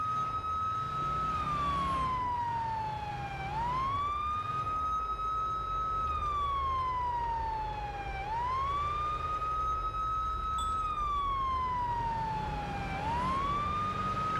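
A video game police car siren wails, rising and falling in long, slow sweeps, loud and continuous over a low engine rumble, with no voices.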